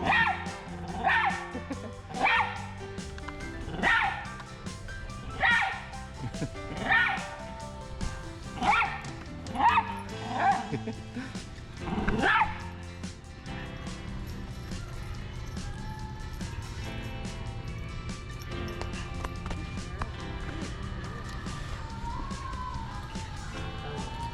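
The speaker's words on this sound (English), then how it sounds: "this dog is so barky" A dog barks about eight times in a steady rhythm, close and fairly loud, then goes quiet while a low room hum and faint background sounds continue.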